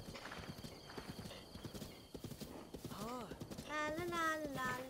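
A horse trots in The Legend of Zelda: Breath of the Wild, its hooves clip-clopping in a quick steady rhythm with a neigh toward the end, mixed with faint speech.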